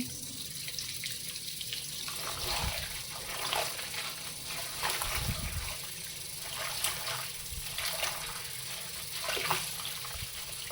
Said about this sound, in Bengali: শাকটা ক্লিন করে নিচ্ছি এখন